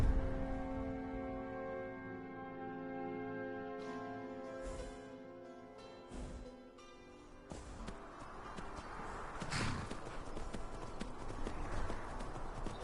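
Horse hooves clip-clop in a steady rhythm as a horse travels in the Skyrim video game, with game music and ambient sounds layered over the hoofbeats.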